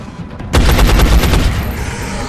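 A soldier fires on an alien in XCOM: Enemy Unknown: a loud, rapid burst of automatic gunfire with several distinct cracks, rising abruptly from low background rumble and decaying into a ringing tail.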